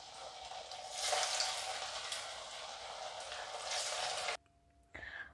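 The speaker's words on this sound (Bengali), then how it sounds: "একইভাবে আমি বাকি ডোনাটগুলোকে ভেজে নেব।" Flattened rice (chira) donuts frying in hot oil, a steady close crackling sizzle for about four seconds, then a brief near-silent gap with a faint tone before the frying resumes.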